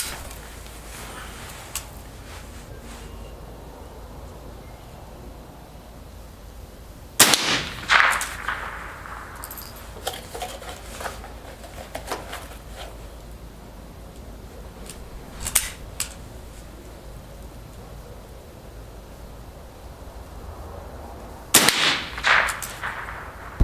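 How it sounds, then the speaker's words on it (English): Rifle shots from a Model 74 firing Federal ammunition outdoors: two sharp, loud cracks far apart in time, with a few fainter clicks and handling noises between them and no talk. "we're going to be using the Federal ammunition just to see how well the gun shoots"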